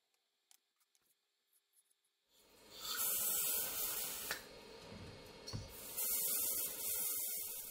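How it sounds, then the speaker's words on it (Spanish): A can of refrigerant spray is aimed onto a thermistor on an electronics bench, letting out several loud, close hissing bursts separated by brief pauses after a few quiet clicks. "Ahora vamos a coger un spray refrigerante y le aplicamos encima del termistor."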